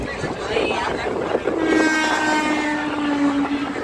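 A festival special passenger train, the Purbiya Express from Anand Vihar to Saharsa, rumbles along with a continuous broadband roar and a sustained horn-like tone from the middle onward, heard from on board with background voices.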